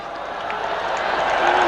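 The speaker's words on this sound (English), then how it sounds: "it's boos that greet the sign on the screen" Cricket crowd at a Test match in Mohali boos a dismissal, a swelling diffuse roar of many voices that grows louder over a moment.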